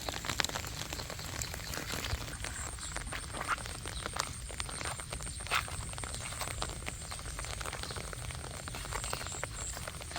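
Steady morning rain pattering on surfaces nearby beside a rice paddy, a dense continuous hiss with scattered drips, and frogs croaking faintly underneath.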